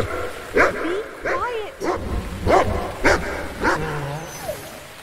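A dog in The Cave video game barks about six times in rain, evenly spaced sharp yelps and whimpers standing out clearly over soft background noise.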